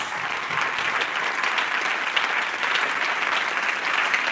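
Sustained loud clapping from a church congregation during a prophetic conference service, many hands beating together in an even, unbroken roar.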